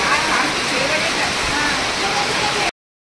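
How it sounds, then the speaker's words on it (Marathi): Rain pours steadily onto a tin-roofed shed, a dense, unbroken hiss and patter at close range that holds at one loud level and then cuts off abruptly. "पुन्हा पाऊस सुरू झालेला आहे आणि इथे पत्र्याचं शेड आहे."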